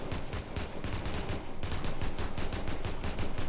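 Assault rifle fire from the video game The Division, short feathered bursts in quick succession, dense and loud, with brief gaps between the strings of shots.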